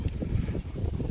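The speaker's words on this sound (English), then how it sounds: "It's windy, I can't read the flappy paper." Wind buffets the microphone in a steady low rumble with gusty fluctuations throughout, no voices.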